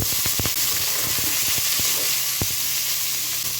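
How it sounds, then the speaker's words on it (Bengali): Chopped onions hit hot oil already holding green and black cardamom, cloves and cinnamon for a Kashmiri mixed vegetable dish, giving a steady, close, loud sizzle with scattered sharp crackles and pops near the start. "এবার আমি পেঁয়াজগুলো দিয়ে দিচ্ছি"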